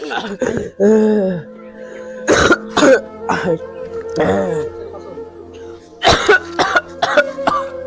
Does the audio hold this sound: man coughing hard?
yes